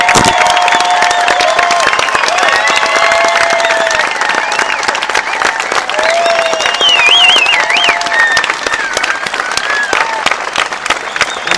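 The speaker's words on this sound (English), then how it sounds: "Let's give them a big round of applause" A lunch-event audience applauds and cheers wounded military heroes at a Hollywood salute, with loud sustained clapping mixed with shouts, whoops and whistles filling the room throughout.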